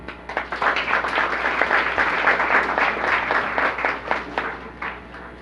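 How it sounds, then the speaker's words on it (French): An audience at a Jacmelitude cultural event in Haiti claps steadily throughout, a close, continuous patter of many hands with no voices rising above it. "Je vous dis de bien vouloir vous applaudir s'il vous plaît."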